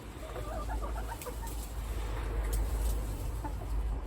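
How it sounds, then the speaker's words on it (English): New hens cluck softly close by against a steady rumbling background, their short calls scattered through the opening seconds. "they're sweet, the new hens"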